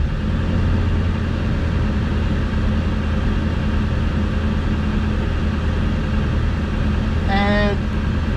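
A Ford 7.3 PowerStroke diesel truck engine runs at high idle, a steady, close, low rumble that holds constant throughout with a brief tonal whine near the end.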